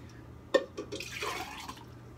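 Water is poured into a blender for squash soup: a sharp knock at the start, then a short splashing pour, close and fairly quiet.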